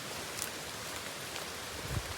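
Heavy rain falls in a forest as a constant wash of broadband patter, fairly soft and even, with a faint thump near the end and no talking.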